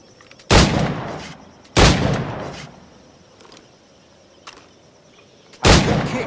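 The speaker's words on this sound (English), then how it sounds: "Pull off a few shots if you like, get a feel for it" Pistol shots in Assassin's Creed: Black Flag: three loud, sharp reports spaced a second or more apart, each with a short ringing tail, plus a couple of faint clicks between them, no talk.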